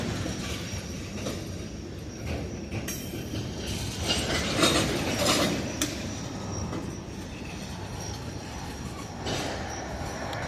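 Last tanker cars of a freight train roll past a railroad crossing, a steady loud rumble with wheel clatter and occasional squeals, the train close by and continuous throughout.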